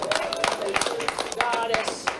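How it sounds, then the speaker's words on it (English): Scattered hand clapping from a small crowd at a state championship main event, with quick irregular claps continuing under a voice. "Please give a round of applause to Linda Johnson."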